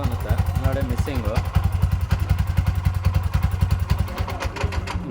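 A Bajaj BS6 auto rickshaw engine runs close by with an uneven, stumbling misfire, its rapid thudding pulses jerking irregularly, while someone talks over it.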